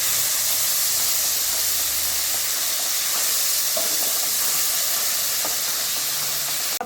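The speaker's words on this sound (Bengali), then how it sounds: "দিয়ে দিচ্ছি আদা রসুন বাটা আদা রসুন বাটাটা খুব ভালো মতো ভাজতে হবে" Ginger-garlic paste frying in hot oil in a pan for a pabda fish curry, a steady loud sizzling hiss held throughout with a few faint stirring clicks, no voices.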